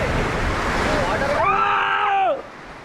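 Sea waves wash onto Sethapalem beach in a steady, broad surf rush, with a voice rising briefly over the water in the second half before the wash carries on alone.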